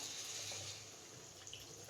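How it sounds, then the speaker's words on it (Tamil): Tap water pours into a pot of whole potatoes in a home kitchen, a faint, steady splashing stream up close with no speech. "இப்போ இந்த காய் முழுகிற அளவுக்கு தண்ணி ஊற்றினா போதும்"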